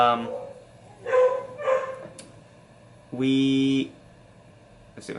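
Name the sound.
dog barking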